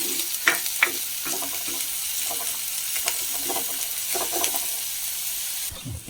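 Dried shrimp dry-roasting in a pan for a home-style curry: a continuous close sizzle broken by repeated scraping stirs at an uneven rhythm.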